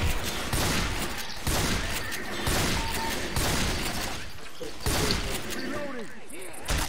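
Blasts of shotgun fire from Left 4 Dead 2, close and loud, repeating at roughly one-second intervals in a busy mix of game noise, with a voice talking over it.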